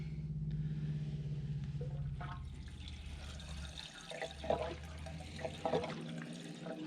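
Fuel pours into the empty 20-gallon tank of an El Camino, a steady liquid gurgle and splash over a low hum, close by, with a few sloshing spurts toward the end.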